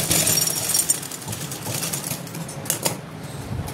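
A sewing machine stitches a trouser hem on lined pants, giving a steady mechanical whir with a fast clattering rhythm, close and fairly loud throughout, with brief sharper clicks near the end and no talk.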